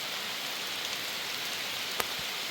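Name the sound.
heavy rain falling on rice fields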